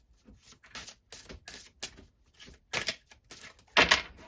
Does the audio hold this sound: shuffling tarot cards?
yes